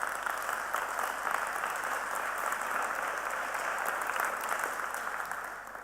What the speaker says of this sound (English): let's just have a huge round of applause for everybody involved in putting this